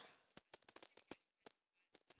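A telephone being dialed in a Playmobil family film, a run of short separate beeps spaced unevenly across a quiet background, ending in a louder tone.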